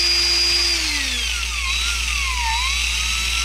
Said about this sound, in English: we'll get this stirred up, 5 minutes with the drill